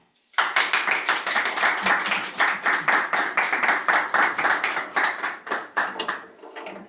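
An audience at a talk applauds to welcome author Linda McCann, a steady run of close hand claps that starts sharply, holds for several seconds and then thins out.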